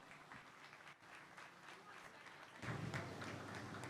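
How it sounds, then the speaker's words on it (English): Applause from the crowd at a youth beef market show, following the Angus steer class and mixed with talk in the arena. The clapping grows louder partway through and keeps going as a steady wash. "Let's give both those young ladies a round of applause."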